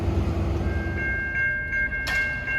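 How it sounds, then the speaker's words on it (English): An NJ Transit equipment train moving through in the rain in Upper Bergen County, New Jersey, a steady low rumble and rolling rail noise with a sustained high tone, a brief bright burst near the end. "We got an equipment train at 8:07."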